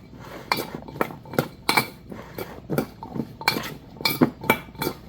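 A utensil mixes heavy Cajun seasoning in a bowl, giving a close series of irregular clinks and scrapes against the bowl, with about a dozen sharp metallic strikes spread over the stretch and no speech.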